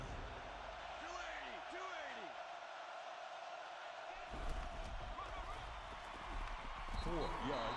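A steady video game crowd roar fills the clip during an American football game, swelling louder in the second half, with a bouncing ball and whoops scattered through the ambience.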